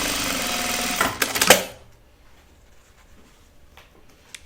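Sewing machine stitching fabric wallet pockets, a fast steady whirring run that ends abruptly with a few clicks, leaving near silence.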